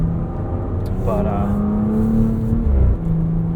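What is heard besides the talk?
Porsche Cayenne S engine while driving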